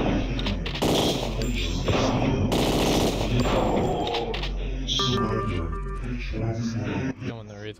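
Enemies in a first-person shooter video game fire their weapons in loud, dense bursts of rapid automatic gunfire with sharp impacts, trailing off near the end as a voice talks over it.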